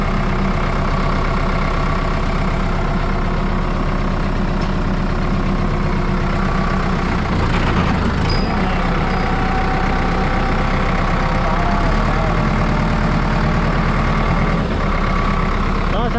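A tractor engine idles steadily just after starting, a dense, loud, rumbling chug that holds throughout at close range with little variation.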